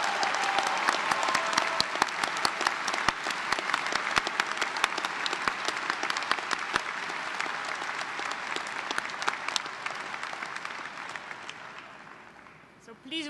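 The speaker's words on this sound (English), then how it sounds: "give them another round of applause" Sustained crowd applause for graduates at a university undergraduate graduation celebration, a dense wash of many hands clapping steadily for several seconds before slowly thinning and fading toward the end.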